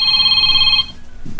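A cellphone ringing in an office, a bright steady electronic tone lasting under a second before cutting off, loud and close, followed by a brief click.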